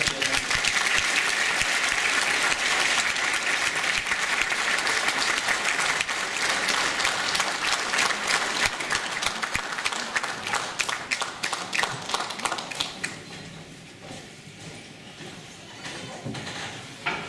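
Audience applause at a Christmas concert, with dense, loud clapping from a large crowd that holds steady, then thins into scattered claps and fades toward the end.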